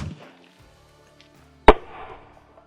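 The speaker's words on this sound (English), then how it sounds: "45 ACP out of a 1911. Probably one of the most common defensive rounds in the United States." A single sharp gunshot of a .45 ACP round fired from a 1911 pistol, one loud crack with a short ringing tail after near silence.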